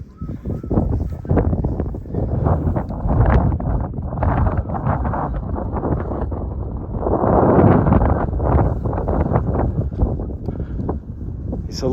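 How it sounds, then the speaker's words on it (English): Strong wind buffets the microphone on an exposed hilltop beside a quarry, a continuous loud roar with gusts that swell toward the middle and stay steady for the whole stretch, no voices over it. "It's a lot windier up here and therefore not quite so warm."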